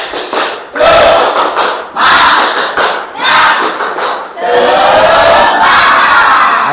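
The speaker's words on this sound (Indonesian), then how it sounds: "Tepuk semangat!" A classroom of students performs a rhythmic spirit clap, with bursts of group clapping and thumps broken by loud unison shouts, ending in sustained crowd cheering.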